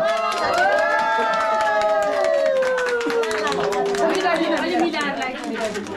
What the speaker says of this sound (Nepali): ताली ताली ताली ल